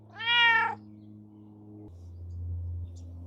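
A cat gives one loud, close, drawn-out meow at the start, followed by a low steady hum with no further calls.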